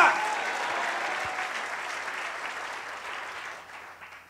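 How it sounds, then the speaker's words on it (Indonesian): Applause from a church congregation during a sermon, a dense steady wash of clapping that is loud at the start and tapers slowly toward the end, with no voices over it. "Berikan tepuk tangan yang lebih baik bagi Allah kita"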